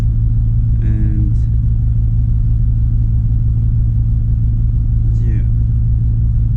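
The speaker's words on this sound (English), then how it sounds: "so you guys can hear the awesome engine sound. This 440 horsepower." A 440-horsepower truck engine idles in a steady, loud low rumble, heard from inside the cab with a couple of brief faint higher squeaks over it.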